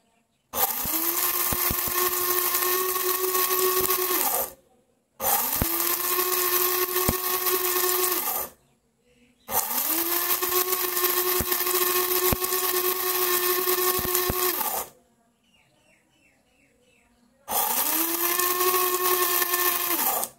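A mini mixer grinder from Flipkart grinds rice in four loud, whining bursts of a few seconds each, separated by short pauses, close up with no talking.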